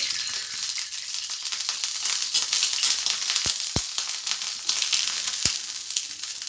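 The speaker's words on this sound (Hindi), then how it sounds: "फिर से हम तवे पे घी डालेंगे" Ghee sizzling on a hot tawa while a maize flour roti cooks, a steady close crackling hiss with a few sharp knocks of a utensil on the griddle.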